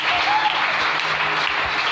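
A church congregation applauds to acclaim the Lord, a dense, continuous wash of many hands clapping together that holds at steady loudness for the whole stretch.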